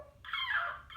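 A human voice imitates a bird call with a single short, whistly chirp that rises and bends in pitch, heard alone and fairly faint.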